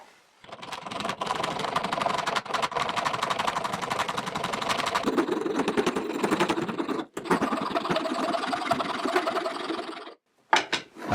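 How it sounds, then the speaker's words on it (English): A power saw runs continuously as it cuts a notch in a plywood piece, a steady close buzzing whine lasting about ten seconds before stopping abruptly. "first, I need to make a notch in the piece of plywood I put earlier"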